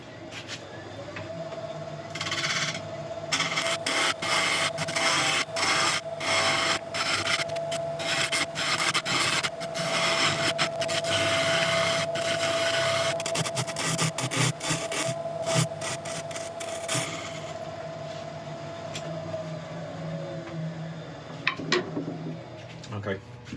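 A sharpened scraper cuts coves into a burl wood bowl spinning on a lathe, giving a sustained raspy scraping with a steady motor hum beneath and repeated rough bursts as the tool bites, stopping near the end.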